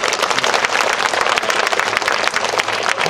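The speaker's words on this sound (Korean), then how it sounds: "저희 말에 동의하시면 박수 한번 쳐주세요" Audience applause at a ceremony unveiling statues of presidents Syngman Rhee and Park Chung-hee: dense, steady clapping from a large crowd, loud and close, filling the whole moment without pause.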